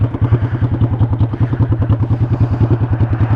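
A motorcycle engine thumps close by in a steady, pulsing rhythm as the rider pulls in the clutch and rolls to a stop, the low beat holding even throughout.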